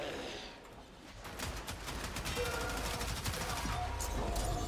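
Gunfire in Warframe, a rapid, continuous rattle of shots that builds after a quieter start and holds steady and loud, mixed with game effects and a voice talking over it.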